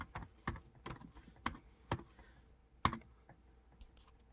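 Keys tapped out on a budget Gateway Windows 11 laptop keyboard to enter a password: a handful of separate, crisp clicks at an uneven pace, close by and fairly quiet, with no talking.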